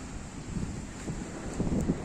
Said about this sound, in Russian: Это значит, где-то в среднем 30-35 узлов точно есть сейчас уже ветер.